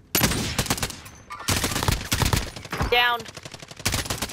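Rapid automatic bursts of M4 rifle fire in a battle royale shooter, sharp close cracks in quick strings with short pauses, a player's voice briefly heard between volleys.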